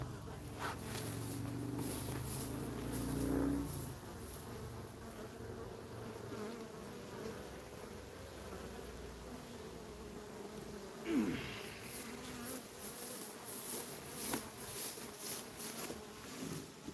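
Honeybees buzz steadily around an opened backyard beehive during an inspection, a continuous close hum with occasional louder passes of individual bees and faint handling noises, no talking.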